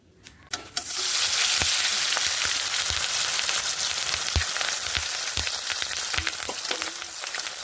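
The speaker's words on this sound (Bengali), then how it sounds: "আর একটা কড়াইতে মাছ তো অনেক" Fish fry in oil in a wok with a loud, close, continuous sizzle dotted with sharp pops and spatters, starting abruptly after a quiet moment and running without talk.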